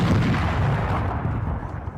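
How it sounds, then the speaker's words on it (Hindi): A ceremonial 21-gun artillery salute fired at dawn in Quetta, Balochistan, comes through as a loud, continuous rumbling boom with heavy low-end thunder. No talk is heard. "दिन का आगाज दारुल हुकूमत कोयटा में नमाज फजर के बाद 21 तोपों की सलामी से हुआ"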